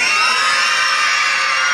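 A crowd of children at a clown show shouts loudly together, a dense, sustained wall of high-pitched voices that stays at full strength from start to finish.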